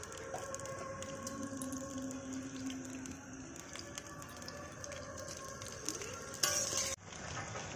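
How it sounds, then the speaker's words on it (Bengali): Potatoes frying on a stove make a faint, steady sizzle beneath tonal background music, with a brief louder clatter near the end. "মা আলু ভাজা বসিয়ে দিয়েছে উনুনে"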